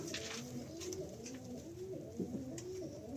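Pigeons coo softly in a loft, with low, rolling calls overlapping one another at moderate distance and a few faint rustles, with no talking.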